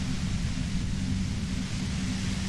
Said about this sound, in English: If you've got something really important to say, you can do it through the white noise.